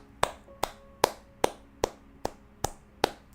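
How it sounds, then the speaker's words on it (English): Eight sharp hand claps struck close to a microphone, evenly spaced at a steady rhythm of roughly two per second, each a crisp loud snap with a short decay and no talking between. "Sorry for clapping into the mic."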